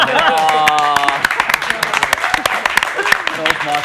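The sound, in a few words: audience applause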